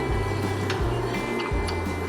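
Polaris Ranger brake pads clicking on their caliper pins, a faint, regular clicking roughly every three quarters of a second under a low steady engine drone.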